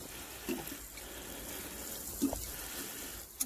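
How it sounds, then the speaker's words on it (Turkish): Water poured over freshly planted pole beans in a garden bed, a soft steady splashing and trickle with a few louder spatters, fairly quiet throughout. "Şimdi can suyunu vereceğiz."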